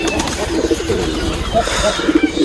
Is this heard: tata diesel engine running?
no